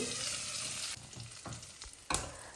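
Chutney sizzles in a pan as it is stirred, a close bright frying hiss broken by a few soft scraping strokes and a sharper clack near the end, with no talking.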